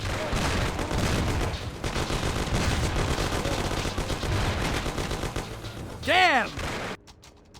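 Burst of gunfire in a shootout in the video game Mafia, rapid repeated shots under shouting voices, ending with an exclamation as the firing stops.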